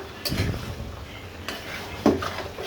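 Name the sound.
lid placed on cooking pot, stove switched off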